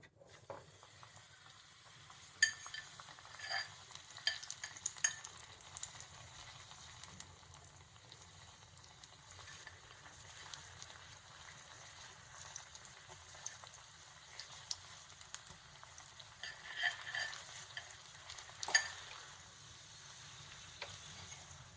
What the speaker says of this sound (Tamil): இதை வந்து எண்ணெயில் பொரிச்சு எடுத்துடலாம்